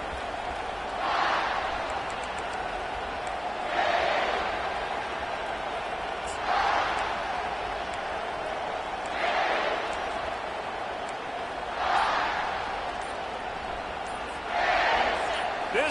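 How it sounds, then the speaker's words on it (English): Stadium crowd roaring in a football video game, a steady broad wash of noise that swells in regular surges every couple of seconds, with commentary voices running over it. "This crowd bringing the energy and noise early."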